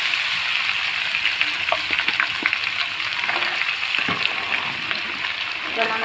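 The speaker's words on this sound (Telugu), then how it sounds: "ఇది బాగా ఫ్రై అవ్వాలి" Amla, Indian gooseberries, added to hot oil already holding darkly fried dried red chillies crackle in a steady close sizzle, with occasional stirring clinks over the pan.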